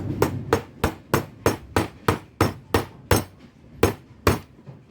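Roughly a dozen sharp, evenly spaced hammer taps ring out close and loud as a roller bearing is driven into a bearing block on a rear transport roller from a GS pinsetter, with no talking.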